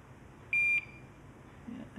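A single short electronic beep, high and pure, sounds once from a device amid quiet room noise in a workshop.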